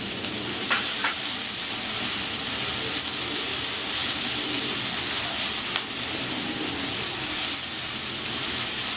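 Potatoes and green chilies frying in oil for a Bengali-style mourola fish with spring onion dish, a loud, steady, close sizzle that runs unbroken throughout with faint stirring clicks.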